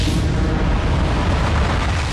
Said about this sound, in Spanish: La gran explosión del Big Bang parecía explicar el nacimiento del universo